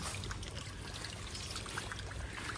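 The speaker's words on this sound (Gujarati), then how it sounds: "નળ આવી ગયા લાગે છે" Tap water pouring and trickling, likely as the household taps come on and water runs to the trees, a steady, even wash of running water throughout with no talk.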